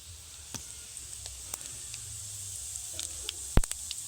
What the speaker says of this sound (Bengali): শুকনো লঙ্কা, গোটা জিরে দিয়ে দেব।